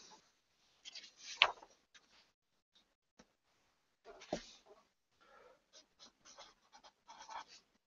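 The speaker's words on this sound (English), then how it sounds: "so let's write that down" Pen strokes scratch across paper while a math problem is worked by hand: sparse, faint scraping bursts with short pauses between them, quiet and close.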